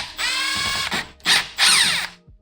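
A ratchet works the two T25 Torx screws at the back of the coolant reservoir on a Volkswagen MK6 TDI, giving close, loud bursts of rapid clicking separated by short pauses.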